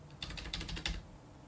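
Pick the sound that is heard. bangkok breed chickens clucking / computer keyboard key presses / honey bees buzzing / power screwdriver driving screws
computer keyboard key presses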